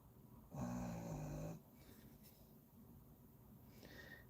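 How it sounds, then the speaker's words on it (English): A large dog snores indoors near a person painting miniatures, one loud rasping snore of about a second, followed by quieter breathing and soft room noise. "He gets bigger, and that snore gets louder."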